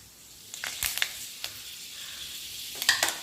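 Mustard seeds and fenugreek sizzling in hot oil, a soft steady frying hiss broken by several sharp crackles and pops as the seeds spit, close by and with no one talking.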